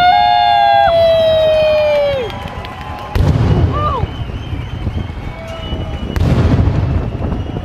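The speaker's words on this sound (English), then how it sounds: "We had the whole fireworks." Fireworks bursting at the Wurstmarkt 2017 fair: whistling rockets rise and fade, then two loud booming explosions follow with crackle, set against a murmuring outdoor crowd.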